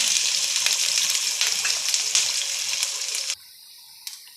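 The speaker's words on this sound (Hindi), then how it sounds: "ये लहसुन ले लिया है और अब हम इसको डालेंगे और थोड़ी सी हमारी मिर्चें ऐड करेंगे" Garlic, chillies and ginger frying in hot oil in a pan, a loud, close, steady hissing sizzle that drops suddenly to a faint quieter sizzle near the end, with no talking.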